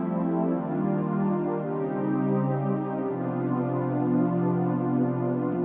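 A sustained piano chord voiced with a major seventh in place of a flat seventh rings out steadily, shifting to a second chord midway, soft and alone without voices.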